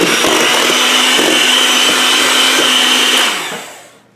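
An electric mixer whirs loudly and steadily while beating cream into a mousse, a continuous close drone that holds for a few seconds before winding down and fading out.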